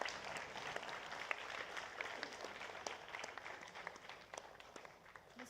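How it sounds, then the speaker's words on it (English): Audience applause at an awards ceremony stage during a grand finale event, steady broadband clapping from a crowd sustained throughout at moderate distance with no talk over it. "A big round of applause, guys."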